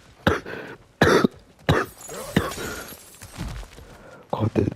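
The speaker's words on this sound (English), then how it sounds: "this cough is actually the most annoying experience of all time" Several sharp, close coughs burst out one after another during a God of War Valhalla DLC gaming session, with short gaps and some throat noise between them.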